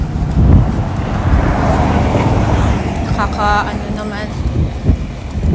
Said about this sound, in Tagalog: Bakit ba ang lakas ng hangin ngayon?